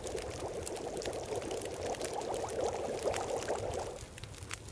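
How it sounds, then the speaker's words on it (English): Water boiling in a pot over a fire in The Long Dark, a steady rushing, bubbling hiss that holds at an even level for several seconds before easing slightly at the end, with no voices. "Going ahead and boiling another liter of water."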